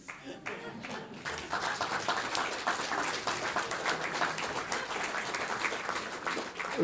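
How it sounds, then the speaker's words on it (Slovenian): Photographers at a gallery talk about a mid-career retrospective break into applause, a steady patter of many hands clapping indoors for several seconds after a brief pause. "Vidim samo fotografi tukaj ploskajo."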